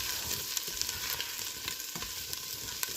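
Vegetables for asparagus soup sizzle and fry steadily in a hot pan, a dense continuous crackle close up with occasional stirring scrapes and no talking.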